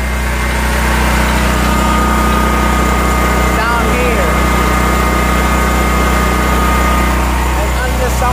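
Portable generator engine running steadily outdoors in cold weather with its exhaust rerouted, a continuous loud hum and low drone filling the whole stretch while a person talks briefly over it.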